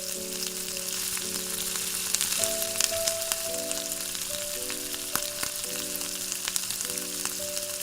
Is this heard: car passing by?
no